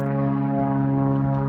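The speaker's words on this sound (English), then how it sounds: "that's just a plane taking off." A continuous droning propeller engine roar with steady low harmonic hum, fairly loud and unbroken, from a small plane taking off nearby at William Creek, South Australia, on a windy day.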